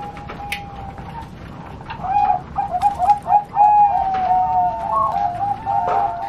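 Bangkok zebra doves (perkutut) kept at a bird farm in Bogor coo in soft repeated phrases, several overlapping calls over a steady low background hum.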